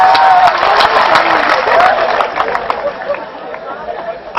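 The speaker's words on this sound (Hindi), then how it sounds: "बजाओ ताली, ढंग से बजाओ फिर।" An audience at a Haryanvi comedy show claps and chatters, a dense spread of applause fading slightly toward the end with crowd murmur mixed in.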